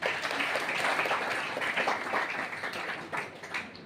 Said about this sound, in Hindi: तो मैं आपके लिए तालियां चाहता हूं सबसे पहले